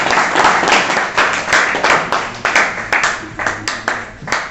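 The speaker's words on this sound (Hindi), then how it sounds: "एक बार तालियां बजाकर स्वागत" Audience clapping in welcome for a guest at a student interaction session, a dense burst of many hands with repeated swells, loud and close, with no talk over it.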